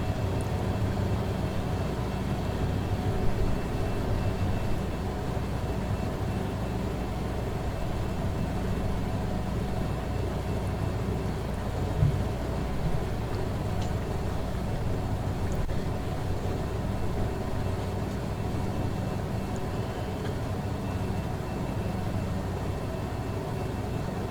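A Douglas DC-3 (C-47) in X-Plane 11 rumbles on the runway with a steady, droning radial-engine hum, continuous and even throughout without any talking.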